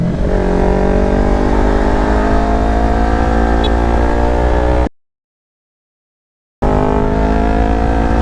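Loud, close motorcycle engine from a European bike, revving with a rising harmonic whine, then cut off abruptly to silence before the engine noise returns.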